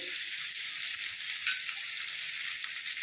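Chopped onions with garlic paste frying in hot oil for a prawn pulao, giving a steady, close, hissing sizzle that holds evenly for the whole stretch with no voices.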